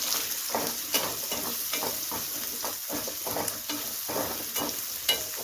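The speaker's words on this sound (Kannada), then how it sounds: "ಇದೇ ಎಣ್ಣೆಗೆ ಇವಾಗ ಒಂದು ಈರುಳ್ಳಿನ ಸೇರಿಸ್ತಾ ಇದ್ದೀನಿ." Onion frying in the same oil used for paneer, a continuous crackling sizzle with repeated stirring scrapes and small knocks, close and steady.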